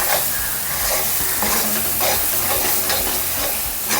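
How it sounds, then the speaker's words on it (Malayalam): Prawn biryani masala stirred in a hot pan, a steady loud sizzle and frying hiss with scraping stir strokes running throughout, close up and with no talking. "അതും കൂടി ഇട്ടിട്ട് നന്നായിട്ട് ഇളക്കി കൊടുക്കാം"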